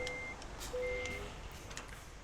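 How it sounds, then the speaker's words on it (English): A truck's reversing alarm in the video game Euro Truck Simulator 2, a few faint, evenly spaced electronic beeps over a low background hum. "Oh, I don't like the beeping noise."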